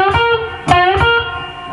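Electric guitar lead lick, with picked string notes bending and ringing out in a short phrase, a couple of sharp attacks, played alone with a slightly overdriven tone.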